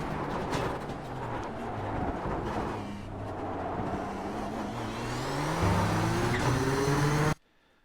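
Nissan GTP ZX-T prototype race car in iRacing at Monza, its engine droning loud and steady at full throttle, pitch climbing through gear changes with rising harmonic sweeps before cutting off abruptly at the end.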